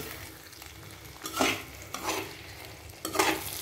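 Potatoes being stirred in a frying pan, with a soft continuous sizzle and three or four distinct scraping strokes of a spoon against the pan, close and alone.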